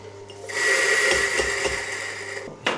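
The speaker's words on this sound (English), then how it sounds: "So I'm just going to stick these through this grinder," Coffee beans run through a grinder at a bakery, a loud, steady whirring grind lasting a couple of seconds with a few dull knocks underneath before it cuts off.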